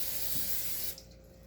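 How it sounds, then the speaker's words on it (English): Cooking spray hisses onto a sheet of saran wrap in one steady, close burst lasting just under a second, then cuts off to quiet room tone. "I'm going to spray the saran wrap."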